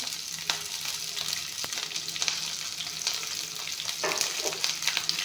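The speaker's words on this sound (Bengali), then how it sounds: "এতিয়া এইখিনি অলপমান ভাজি ল'ম" Cumin, garlic, ginger and chili fry in a pan with a constant close sizzle and hiss, broken by a few scrapes of stirring.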